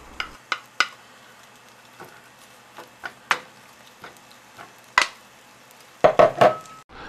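Eggs for a sausage and cheese omelet hit a buttered pan, with scattered sharp clinks and taps of a utensil, a soft steady sizzle, and a louder clatter of cookware near the end.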